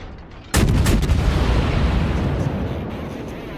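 Naval guns firing in World of Warships, a single sudden heavy boom after a brief quiet start, followed by a loud rumbling roar that slowly decays over the next few seconds.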